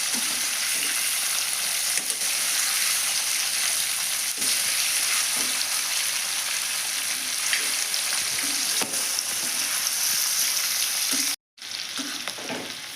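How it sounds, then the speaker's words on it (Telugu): Cauliflower pieces fry in hot oil in a pan, giving a loud continuous sizzle and bubbling with small stirring knocks, broken by a brief moment of silence near the end before the frying resumes. "నూనెలో బాగా ఫ్రై అవుతున్నాయి"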